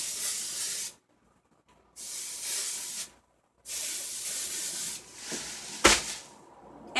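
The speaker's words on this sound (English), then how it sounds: "I always refresh it with dry shampoo" An aerosol can of dry shampoo sprays in three long hissing bursts, each about a second, with brief silent gaps, followed by a short sharp knock near the end.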